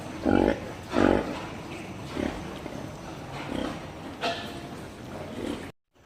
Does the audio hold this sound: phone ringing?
no